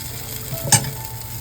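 Amboli batter poured back onto a hot pan gives a steady, close sizzle with one brief scrape or clink in the middle, short and without talk.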